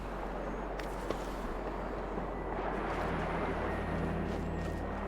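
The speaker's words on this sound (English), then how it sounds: "You can hear the water rushing." Rushing river water in the Disney Dreamlight Valley video game: a steady, dense roar that runs without a break the whole time.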